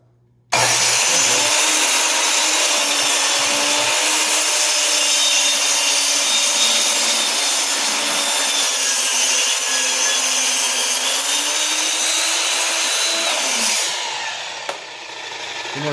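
Wood is cut to an angle during a 16-foot Tempest boat's inboard/outboard conversion. A loud, continuous saw drone runs steadily for about thirteen seconds, then winds down.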